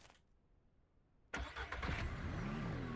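A car engine in the farming game Ranch Simulator starts abruptly after near silence, then settles into a steady mid-pitched running hum with a slight rev.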